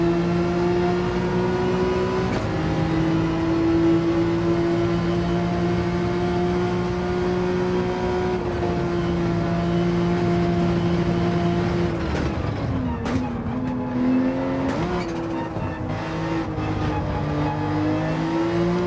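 A Porsche 911 turbo engine races in a 24 Hours of Le Mans video game, a loud, steady, harmonic drone that dips briefly around a gear change before climbing again.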